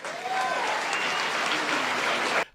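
Audience at a South African political speech by Ramaphosa breaks into sustained clapping, a dense, steady wash of applause that holds evenly before cutting off abruptly near the end.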